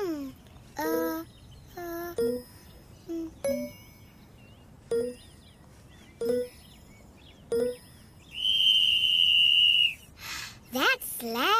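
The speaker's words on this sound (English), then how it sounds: "That's loud. It makes you listen. I know, it's a whistle." A loud, piercing whistle blasts steadily for about two seconds near the end, after a series of short chiming dings and bits of child-like voices.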